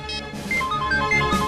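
A telephone rings unanswered in an office, its electronic ringtone warbling steadily and fairly loud through the whole moment with no one speaking.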